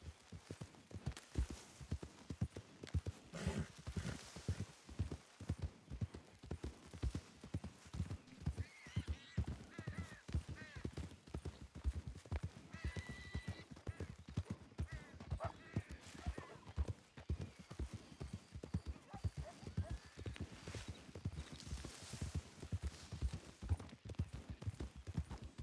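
Steady clip-clop of horse hooves at a walking pace in a video game, with an occasional whinny, continuous and fairly quiet throughout.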